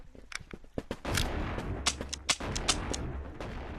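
Shotguns fire in the Animal Company VR game, a rapid series of sharp, close blasts, some overlapping, over a rumbling background.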